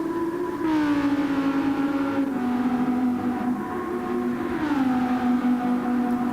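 A race car engine in a racing video game holds a steady, throaty drone that dips and climbs in pitch as it revs and shifts, sustained and loud throughout without speech.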